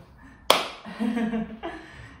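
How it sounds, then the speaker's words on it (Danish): One sharp, close hand clap in a podcast setting rings out, followed by a person speaking briefly afterward. "godt klappet"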